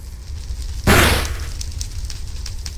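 Charmander's Ember attack in a Pokemon video game: one loud, sudden fiery burst with a crackling whoosh that fades over about a second, above a steady low game rumble.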